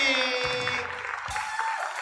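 Applause from the audience at a church Christmas party in Kaohsiung fills a short moment, steady and fairly close, with a ringing tonal hum running through it.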